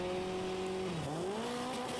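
Alfa Romeo race cars rev and accelerate away at a race start, engine notes climbing in pitch after a short dip, heard at a moderate distance.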